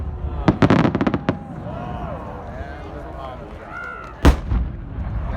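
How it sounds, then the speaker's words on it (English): An 8-inch firework shell bursts in a daylight display, with a quick rapid string of sharp crackling reports near the start and one heavy boom later, outdoors with a distant crowd murmur between the blasts. "an 8-inch break of red stars followed by 1 timing of reports"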